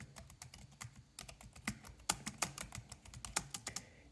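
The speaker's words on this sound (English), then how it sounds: "It's not as bassy as that cheapest keyboard" Keys clatter on a wireless computer keyboard with a mid-range, not very bassy tone, quick irregular keystrokes in bursts, close and distinct with no speech.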